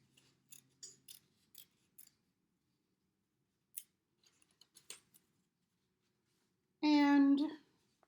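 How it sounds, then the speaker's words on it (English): Scissors make a series of short, crisp snips while cutting a pear shape out of paper, close and clear with pauses between cuts, and a brief burst of speech near the end. "I'm cutting out the main part of my pear."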